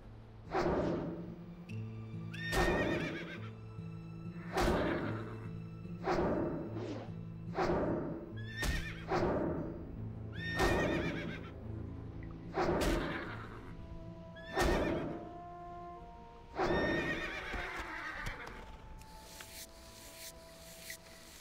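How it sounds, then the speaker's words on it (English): A zebra in World of Warcraft Classic gives a horse-like neigh about nine times at a steady pace, each whinny loud and close, separated by brief pauses. "You look like a zebra, but sound like a horse."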